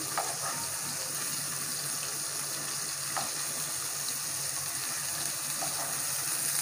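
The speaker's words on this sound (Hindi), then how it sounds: "सेब कबाब यहाँ पर फ्राई हो चुके हैं" Seekh kebabs fry over high heat in a large frying pan, giving a steady, soft sizzle with faint crackles and pops throughout, alone without talk.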